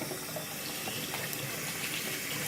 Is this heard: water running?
yes